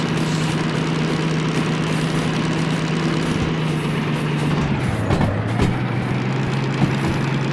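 A locomotive diesel engine in the Derail Valley train simulator hums steadily with a low droning tone, shifting slightly in pitch near the end amid faint clanks.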